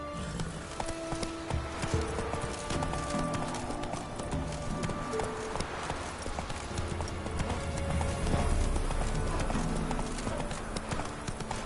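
A horse gallops in The Witcher 3 on PS4, its hooves drumming in a fast, continuous clip-clop under game music and ambience, steady and moderately loud throughout.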